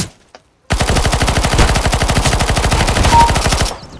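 Automatic gunfire in Counter-Strike: Global Offensive: a loud, rapid sustained burst of about three seconds after a brief silence, then an abrupt stop.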